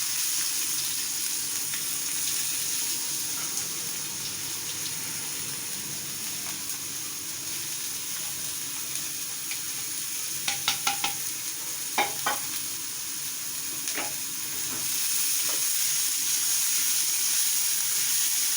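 Onions frying in a pan with chilli powder, coriander powder and turmeric, a steady close sizzle running throughout with a few sharp scraping stirs near the middle, no voices.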